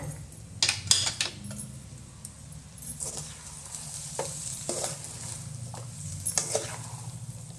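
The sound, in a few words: stirring masala rice with peanuts and onion in a pan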